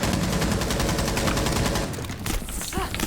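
Rapid gunfire in a first-person shooter video game rattles loud and close in dense, repeated bursts, thinning toward the end as a few separate shots ring out.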